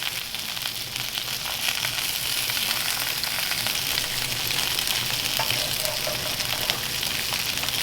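Steady, loud sizzling and crackling of sausages frying in a hot pan, continuous throughout with no voices.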